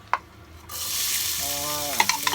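Onion hits a hot saucepan for a homemade tomato basil sauce, starting a sudden bright sizzle that holds steady, with a few utensil clicks at the start and near the end.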